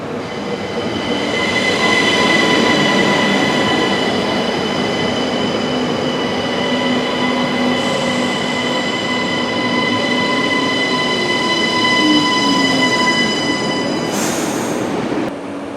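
A train at Charleroi station rumbles loudly nearby for about fifteen seconds, with sustained tonal wheel squeal and a steady mechanical drone, and a sharp high screech flaring briefly near the end.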